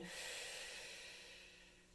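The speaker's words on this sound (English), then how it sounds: "I'm over-exaggerating the breathing" A long, breathy exhale is exaggerated during a yoga exercise. It is close and hissing, fades slowly over two seconds, and is quiet overall.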